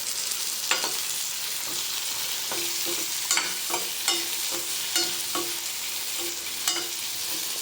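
Eggplant fries in a pan for a Tamil kuzhambu, giving a steady close sizzle broken by frequent scraping clicks from a stirring spoon. No one speaks.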